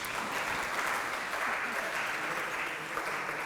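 Audience at a technical talk on job and article recommender systems greets a speaker with a big round of applause, a thick, even wash of clapping filling the room.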